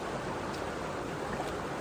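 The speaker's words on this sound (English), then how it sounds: "I am standing in the creek" Creek water flows around a pair of high-top Gore-Tex boots standing ankle-deep in the stream, a steady close rushing wash with no voices.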